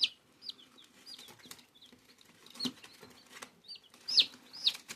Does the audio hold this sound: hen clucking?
yes